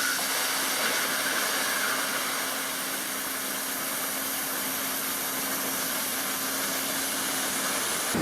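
A Miller plasma cutter arc slices through 1/4 inch steel plate, giving a steady, loud, unbroken hiss with a faint constant hum, running alone without voices until it cuts off abruptly at the end.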